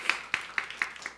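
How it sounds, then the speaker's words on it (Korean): A handful of evenly spaced claps ring out faintly during a church service, about five in quick succession before trailing off. "박수로 주겠습니다."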